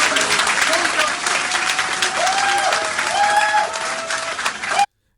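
A crowd claps steadily at an outdoor political event in Sierra Leone tied to President Bio, the applause dense and continuous, with voices and speech mixed in throughout before it cuts off.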